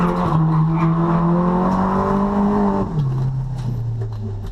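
A drifting car powered by a CA18DET engine slides through the old pit lane of a former NASCAR track, engine droning loud and steady while a long tire squeal holds, then the engine note drops and carries on under continued squeal.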